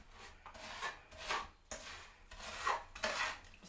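Hands rub and pull apart cooled kunafa pastry strands coated with ghee, a series of soft, close, dry rustling and crunching scrapes in uneven bursts, quiet and without talk.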